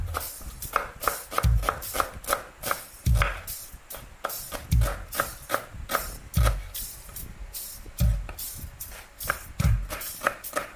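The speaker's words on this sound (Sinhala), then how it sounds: "අපි ඊටු ලුණු තක්කයි ටිකක් කපලා ලෑස්ති කරගමු දැන්" A knife chops onions and tomatoes on a board in a steady rhythmic series of close, crisp cuts, with heavier thuds recurring at regular intervals.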